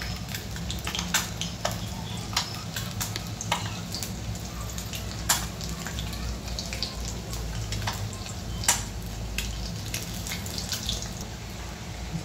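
Eggs frying in a pan for egg curry, a continuous sizzle with frequent sharp crackles and pops spread across the whole stretch, fairly close and loud, with no voices.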